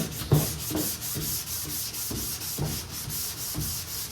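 Hand sanding of body filler on a car panel with sandpaper on a block, in steady back-and-forth strokes roughly every half second, close and fairly loud, with no talking.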